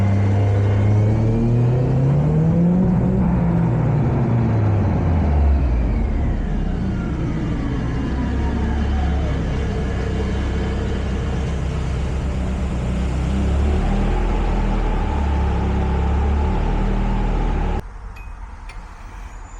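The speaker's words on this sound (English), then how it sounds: "we're going to be doing 4th gear pulls in this car" A Nissan S13 on a dyno in a 4th gear pull, the engine revving up loudly and steadily as a deep rumble climbs, then dropping off and idling before cutting out near the end.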